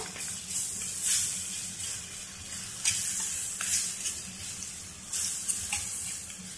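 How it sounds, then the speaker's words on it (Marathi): Crushed garlic and chillies sizzle steadily in hot oil in a kadhai as a tempering is fried, with a continuous bright hiss and occasional stirring scrapes, close and alone. "लसूण चांगला परतेपर्यंत फोडणी परतायची चांगली व्यवस्थित"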